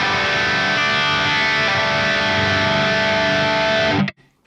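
Sustained distorted electric guitar chord from a Squier Classic Vibe Jazzmaster on the bridge pickup, ringing with a thick, buzzy tone, held loud and steady before being abruptly cut off.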